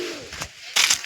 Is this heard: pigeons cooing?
yes